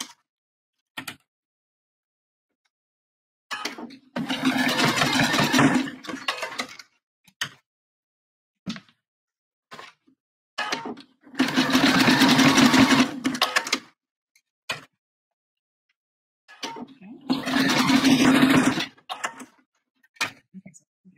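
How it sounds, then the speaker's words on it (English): A sewing machine zigzag stitching to close the edges of a bra, running in three steady bursts of a few seconds each with quiet pauses and small clicks between. "So we're gonna zigzag to close those."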